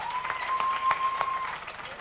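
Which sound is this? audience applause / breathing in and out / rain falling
audience applause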